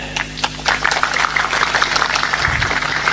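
Audience applause in a crowded gathering of listeners at an Islamic religious talk, a dense steady patter of many clapping hands sustained throughout, with murmuring and a brief low thump near the end.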